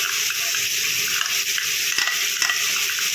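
Ground cashew and melon seed paste frying and being stirred in a pan for a vegetarian home-cooked fish-shaped delicacy, with a steady, close hiss of sizzling and soft scraping throughout, no voices.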